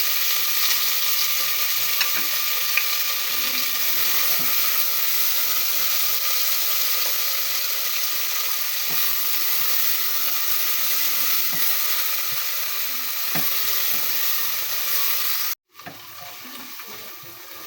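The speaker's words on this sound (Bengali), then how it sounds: "আমি প্রেসার কুকারে তেল দিয়ে দিয়েছি, এখন দিয়ে দিচ্ছি পেঁয়াজ, এটাকে আমি বেরেস্তা করে নেব।" Onions fry in oil inside a pressure cooker for haleem, a loud, continuous sizzle with occasional faint stirring clicks, cutting off abruptly near the end.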